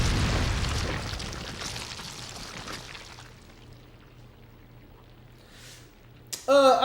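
Rocket launcher blast against the boss Salazar in Resident Evil 4, a loud booming explosion at the start that rumbles and fades into a low hum, with a sharp burst near the end.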